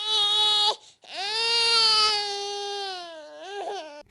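A loud wailing cry with a long, rising then sustained tone after a brief opening sob, ending in a few faltering whimpers, heard close and alone.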